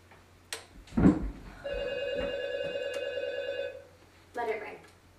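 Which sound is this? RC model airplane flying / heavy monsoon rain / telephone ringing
telephone ringing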